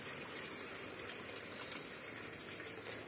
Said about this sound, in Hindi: जब हम अपने गार्डन में बैठते हैं, पानी के इस तरह के साउंड को सुनना भी बहुत अच्छा लगता है